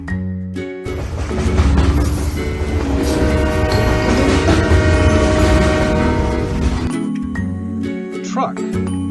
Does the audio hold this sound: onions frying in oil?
no